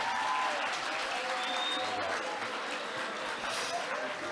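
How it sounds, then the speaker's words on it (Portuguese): An audience welcoming a guest at a talk on threat, flight and exile gives sustained, even applause, many hands clapping at once with a faint murmur underneath. "Por favor, um aplauso para recebê-lo."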